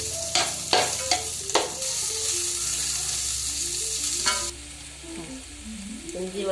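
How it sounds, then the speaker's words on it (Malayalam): Four onions sautéing in hot oil for a chicken fry, a steady close sizzle with repeated scraping stir strokes early on, settling into a quieter continuous fry toward the end. "ഓയിൽ ചൂടായതിനു ശേഷം സവാള ഇടുക. 4 സവാള ഉണ്ട്. നല്ലോണം കിടന്ന് വഴറ്റണം."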